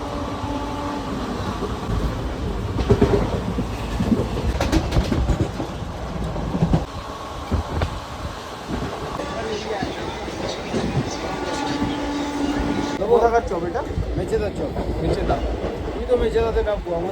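A passenger train to Digha rumbles steadily along the tracks with rhythmic clatter and rattling carriages, heard from inside, with people talking faintly under the noise.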